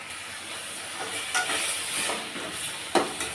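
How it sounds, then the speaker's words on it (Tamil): Tomatoes and onions sautéing in a pan for Kumbakonam-style sambar, a steady soft sizzle and hiss with a few stirring scrapes, close by and without talk. "நீங்கள் மூணு தக்காளி கூட சேர்த்துக்கலாம் இது நல்லா வதங்கட்டும்"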